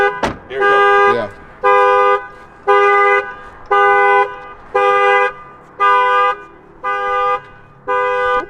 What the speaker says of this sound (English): if you try to reach in and unlock the car, the alarm will go off